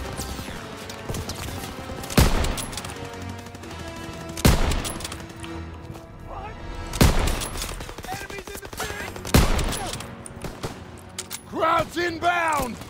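MG-42 machine gun fire in the D-Day battle of the video game Call of Duty: WWII, dense bursts of gunfire and heavy impacts amid chaotic battle noise and shouted voices.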